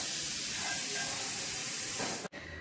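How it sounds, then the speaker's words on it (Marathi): A kitchen mixer grinder whirs as it grinds onion, coconut, tomato and coriander into a masala paste, giving a loud, steady hissing roar that cuts off abruptly near the end. "टोमॅटो आणि कोथिंबीर टाकूया आणि मिक्सरला आपण हे वाटण करून घेऊया."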